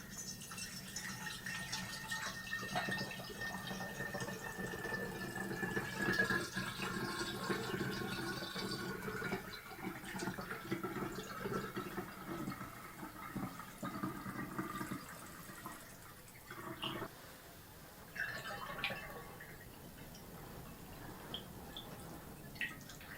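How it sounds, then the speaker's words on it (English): Filtered water pouring through a funnel into a sterile bottle, a steady close trickle and gurgle that rises and fades, ending in a few drips and small clinks. "using the funnel, into the sterile bottle the filtered water from jug 10"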